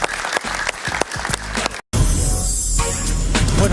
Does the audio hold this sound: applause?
yes